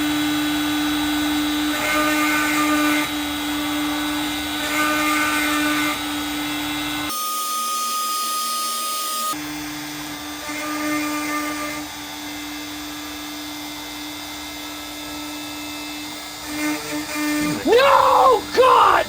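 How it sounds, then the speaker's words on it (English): A CNC router carving letters into a wooden cribbage board, a steady high-pitched whine of the spindle with grinding cutting noise, briefly interrupted, then resuming before a voice breaks in near the end. "This is why I hate CNC machines."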